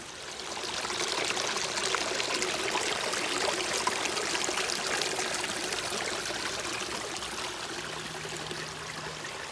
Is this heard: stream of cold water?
yes